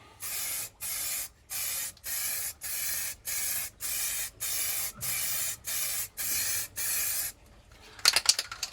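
Short spray-paint bursts are applied to a jerry can during restoration, roughly a dozen evenly spaced hissing blasts about half a second each, close and loud, then a few light clatters at the end.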